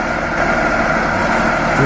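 Tractor engine idling in the video game Farming Simulator, a steady, close, low droning hum with even vibration and no voices.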